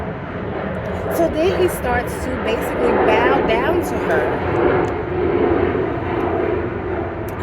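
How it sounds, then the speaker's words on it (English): A propeller airplane flies overhead, a steady broad engine drone that swells and fades over several seconds, heard faintly behind someone talking continuously throughout. "I don't know if you can hear that plane going by."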